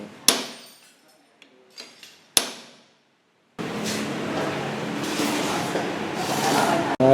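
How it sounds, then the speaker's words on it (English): A hammer drives a bolt down onto the steering headset of a Vespa scooter during steering lock replacement, giving two loud, ringing metallic strikes and a few lighter taps, then a burst of steady background noise. "hammer it down with the help of a bolt and hammer"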